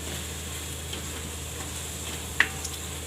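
Spice masala fries in oil for a peanut bhajiya curry, giving a faint, steady sizzling hiss with one brief sharp tick near the end.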